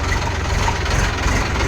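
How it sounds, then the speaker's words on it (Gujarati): A New Holland tractor's diesel engine runs steadily up close, a dense low rumble with a constant loud drone and no break throughout. "જો ન્યુ હોલેન્ડ ટ્રેક્ટર લઈને આપણે આગળ જઈએ છીએ"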